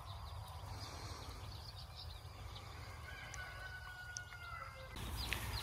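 A large flock of pasture-raised chickens on a farm in the morning, with soft clucking and scattered chirps spread evenly through a steady outdoor background, slightly busier toward the end.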